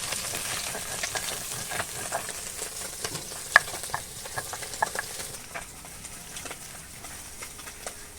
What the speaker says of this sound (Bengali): পুঁটি মাছ ভাজা হয়ে গেছে, নামিয়ে নিচ্ছি।